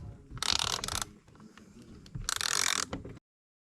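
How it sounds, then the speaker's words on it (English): A ratchet wrench loosens fasteners on the door of a 2011 Ford Expedition, making two bursts of rapid, loud, close clicking separated by a pause, with faint handling noise between them. "now you're going to use the ratchet"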